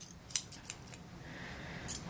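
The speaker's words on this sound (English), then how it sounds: "I've just trained myself to be okay with a little bit of dull scissors." Dull grooming scissors snip through a Shih Tzu's coat in a few quick, crisp cuts up close, with a brief pause between bursts and no voices.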